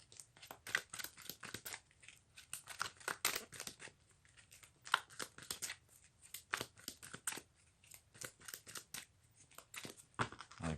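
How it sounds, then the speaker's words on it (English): A deck of cards being shuffled during a tabletop wargame, faint riffling and slapping in irregular bursts, close by and quiet, with no talk. "We shuffle their deck up."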